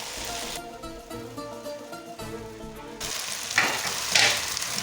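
Boiled noodles and vegetables for chicken chow mein hit a hot pan, first under a tonal, humming background, then a louder bright sizzle swells with stirring and scraping.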